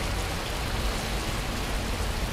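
Heavy rain hisses in a long-distance bus simulator video game, a dense, unbroken downpour at a steady level with no voices.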